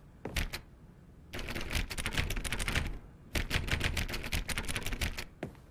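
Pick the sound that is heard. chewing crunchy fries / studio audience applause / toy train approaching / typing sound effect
typing sound effect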